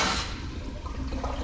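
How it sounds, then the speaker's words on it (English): Water spits and hisses from the relief valve of a backflow preventer during a pressure test, a steady splashing rush that starts loud and settles into a continuous watery spray. "we get that spit out of the relief valve"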